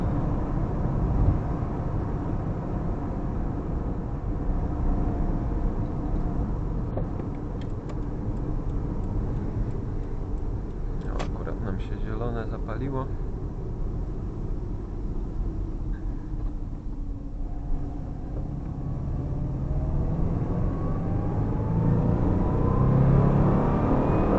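A 2007 Subaru Impreza 2.0 with a 160 HP engine driving through a city at night, its steady engine drone and road rumble continuous from inside the car, swelling slightly as it accelerates near the end.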